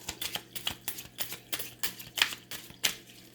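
Tarot cards shuffled in a run of about ten quick, papery riffs and flutters, soft and close, with a steady low hum underneath and no talking.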